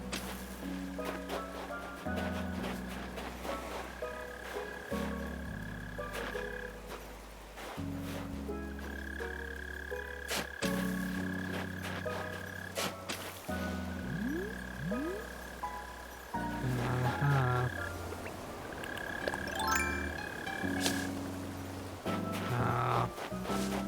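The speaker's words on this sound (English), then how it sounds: "I think it's just mole crickets." Mole crickets in the video game Animal Crossing New Horizons give off a buzzing, croaky trill over the game's steady, blocky background music.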